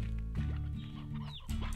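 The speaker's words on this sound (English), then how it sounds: "Here we have chickens." Chickens cluck repeatedly in the video game Slime Rancher, short close bursts of fowl calls over a low steady game hum with no speech.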